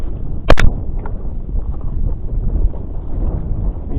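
Wind blows outdoors on a drizzly coast, a low rumbling gust buffeting the microphone steadily, with a sharp knock near the start.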